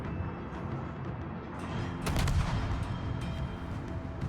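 Naval gunfire in a warship video game, a muffled burst of heavy shots rumbling briefly at mid-distance amid steady game ambience.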